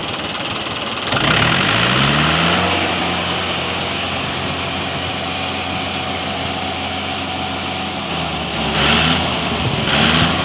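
A Mahindra 575 DI tractor engine starts up and runs with a steady, loud mid-pitched diesel-like throb, briefly revving higher near the start and again toward the end. No voices are heard.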